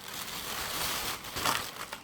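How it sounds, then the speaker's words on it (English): A plastic bag crinkles and rustles loudly and close up as it is wrapped around a board, in a continuous crumpling burst. "I put a plastic bag around the board"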